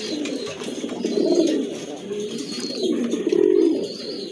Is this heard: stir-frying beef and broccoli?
no